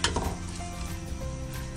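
Chopped tomatoes and green chilies sizzle and fry in a hot pan, a short, steady crackling hiss at close range.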